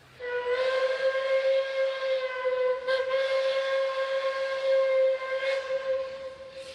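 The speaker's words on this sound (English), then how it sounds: "This is Puffing Billy Locomotive 6A hauling a load test train from Belgrave to Gembrook" Puffing Billy steam locomotive 6A hauling a load test train between Belgrave and Gembrook, Australia: its whistle sounds long and steady, rich in harmonics, with brief chuffs of the engine breaking through twice.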